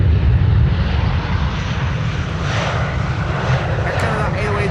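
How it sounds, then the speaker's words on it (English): A KLM airliner from London City arrives at Amsterdam Schiphol Airport, its engines a loud, steady low roar that swells slightly as it nears, with a voice speaking over it. "KLM Flight 982 arriving from London City."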